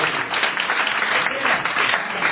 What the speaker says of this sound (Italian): eccoli qua, applauso, applauso.